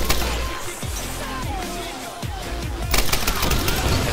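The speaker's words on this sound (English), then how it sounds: "Let's get him with the rifle." Rifle gunfire in the video game Tomb Raider, a run of rapid shots over busy game noise, with a louder dense burst near the end.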